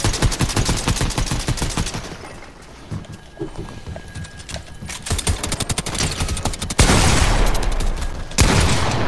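Rapid bursts of gunfire from the Fortnite battle royale video game, loud and dense, with repeated shots rattling throughout and a heavier surge near the end.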